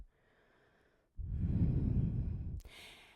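A deep, slow exhale during a yoga crescent pose, close and clear, one long breath out after a faint quiet start, then a brief rustle at the end.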